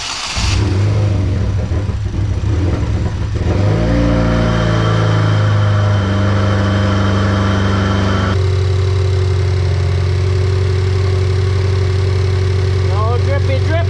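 Saturn Sky or Pontiac Solstice engine cranking and catching after a new high-pressure fuel pump is fitted, settling into a loud steady idle with a shift in pitch partway, close and continuous.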